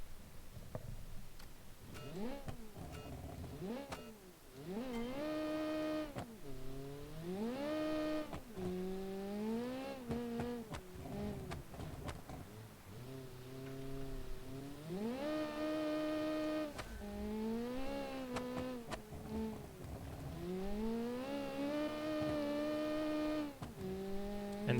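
Turbocharged four-cylinder rally car in a classic rally racing video game, engine revving hard and climbing in pitch again and again as it shifts up through the gears, loud and steady throughout with no talk.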